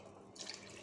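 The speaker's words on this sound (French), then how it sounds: "Je vais rajouter un peu d'eau." Water is poured from a tap into a pot of beef bourguignon, a brief, faint splash and rush that starts partway through, with no speech.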